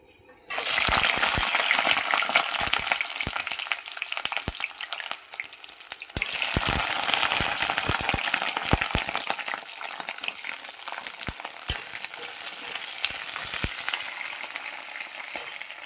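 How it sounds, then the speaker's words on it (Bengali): Eggplant slices frying in a pan as Bengali home cooking, a loud steady sizzle that starts abruptly and carries on throughout, with scattered sharp pops and crackles and no talking. "এইদিকে বেগুন ভাজা চড়াবো"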